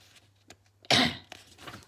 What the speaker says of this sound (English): Sorry, I've got the coughing still.